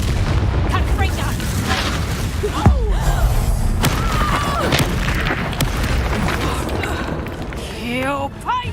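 A Confringo explosive spell blasts in the Hogwarts Legacy video game, giving a sharp booming burst amid ongoing fiery combat rumble, with voices shouting over the action.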